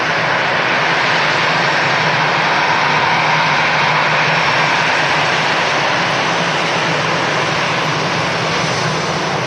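EasyJet airliner arriving from Copenhagen at Manchester Airport, a loud, steady jet engine roar filling the whole stretch with broadband rushing noise and no talking.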